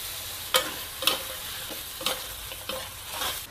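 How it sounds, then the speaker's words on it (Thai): Chicken stir-fried into curry paste in a wok for a jungle curry: a steady sizzle broken by several sharp spatula scrapes and clacks against the pan, close up and without voices. "ไก่ที่การลวนไว้ใส่ลงไป"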